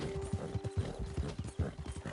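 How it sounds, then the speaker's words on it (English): Horse hooves clip-clopping in Red Dead Redemption 2, a steady run of close hoofbeats at walking pace with a faint occasional whinny, no talking over them. "Who's a good horse?"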